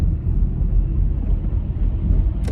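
A car passes very close by, a loud low rumbling whoosh of engine and tyre noise heard from inside another vehicle on a city street.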